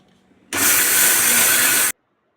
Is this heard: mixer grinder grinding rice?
yes